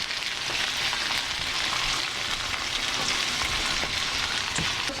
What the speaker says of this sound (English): we need to render down the fat cap on some of them that are almost cooked